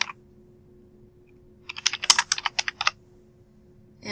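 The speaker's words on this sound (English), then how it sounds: "I'm going to type vertical bay." A burst of rapid keystrokes on a computer keyboard, about a dozen close, crisp clicks in a quick run lasting roughly a second, with a couple of isolated taps before and after against a quiet room.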